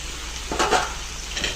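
Okra pieces sizzling in a pan of onions, salt and chili masala while being stirred, a low constant fry with one brief scraping stir in the middle.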